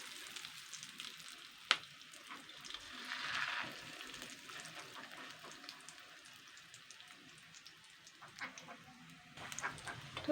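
Fish egg fritters dropped one at a time into medium-hot oil, giving a soft continuous sizzle with a sharp splash near the start and light crackles throughout, close and fairly quiet.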